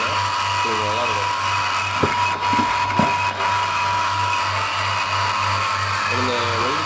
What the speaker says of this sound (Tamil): இப்போ வேக்கம் போட்டிருக்கேன்.